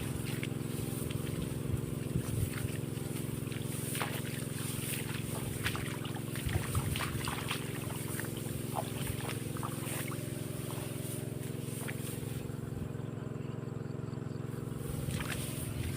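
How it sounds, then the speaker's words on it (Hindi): An irrigation pump engine runs steadily in a rice field after watering, giving a continuous low droning rumble with outdoor wind and faint trickling water over it, with no talk. "अब 2-4 मिनट और चलने देते हैं इंजन को, इसके बाद बंद करके घर भागते हैं।"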